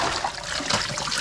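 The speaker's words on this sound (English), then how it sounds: "So right now, wash me bok choy." Tap water runs steadily over bok choy as it is washed, a continuous close trickle and splash with no talking.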